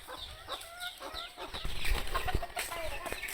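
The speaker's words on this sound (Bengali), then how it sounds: "দুই মুরগের লড়াই" Two roosters fight among clucking chickens in a village, agitated calls and squawks overlapping close by, with scuffling thumps and flapping as the birds scrap.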